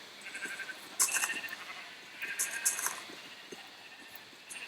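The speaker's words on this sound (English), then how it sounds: "Lots of sheep. Oh wow," Sheep bleat in the video game Minecraft, a few soft, wavering calls that rise and fall at close range, with brief gaps between them and no talk over them.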